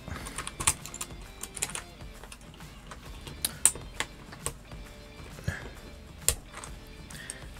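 Rapid clacky keystrokes on a mechanical keyboard, close and steady with occasional louder taps, no voices.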